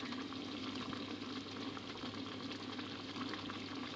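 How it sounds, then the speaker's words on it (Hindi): Sliced tomatoes fry in a karahi for butt karahi, giving a soft, steady sizzle and bubbling hiss that stays even throughout, fairly quiet and without any voices. "मैं इसमें शामिल कर रही हूँ जो हमने स्लाइस किए थे टमाटर।"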